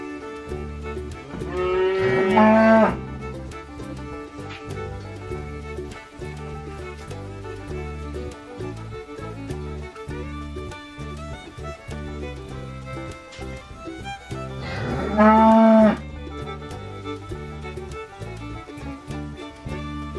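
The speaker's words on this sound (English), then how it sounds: "cow," Two long, loud cow moos stand out clearly, one near the start and another around two-thirds through, each with a strong tonal low bellow, separated by quieter background sound.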